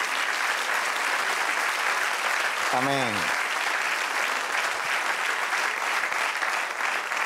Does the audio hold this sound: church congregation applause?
yes